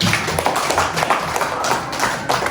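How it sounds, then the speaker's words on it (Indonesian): Classroom applause for all the student groups, a brief patter of light, scattered hand claps from a small class, moderately loud and continuous for a couple of seconds. "Oke, tepuk tangan untuk semua kelompok."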